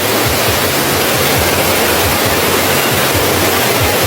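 Wang Kan Lueang waterfall in Lopburi province roars as a loud, continuous rush of falling water, steady and close with no pauses.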